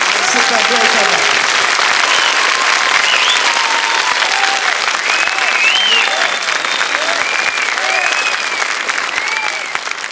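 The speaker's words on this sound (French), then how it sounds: "vous pouvez applaudir parce que c'est un véritable artiste." An audience at a televised show applauds a street-surfing performer in Paris, a dense, steady burst of clapping throughout, with voices and a cheer or two mixed in beneath.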